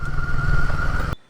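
A motorcycle engine runs steadily and loud, close by, with a low rumbling drone, then cuts off abruptly as the bike is parked near a resort in Gokarna, leaving silence.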